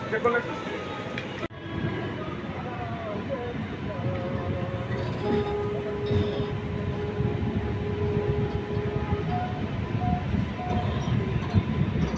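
The Sealdah–Balurghat Express pulls into a station at dawn in foggy North Bengal, its carriages rumbling steadily with occasional squeals and clanks, continuous and fairly loud under a background of voices.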